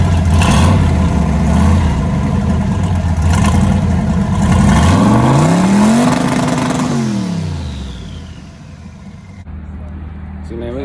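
Loud turbocharged car engines revving at an outdoor car meet, close and powerful, with a rising then falling rev sweep before the engine settles to a lower rumble; someone talks over it.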